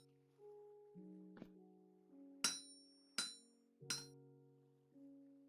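Chiseling a block in a voxel survival game, heard as three sharp metallic clinks spaced under a second apart, set against steady tonal game music and a softer earlier tap.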